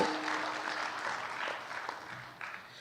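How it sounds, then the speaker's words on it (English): An audience applauds at an annual arts awards event, a brief, moderately loud patter of many hands clapping that holds steady and then thins out. "So let's give a huge round of applause to our beautiful village."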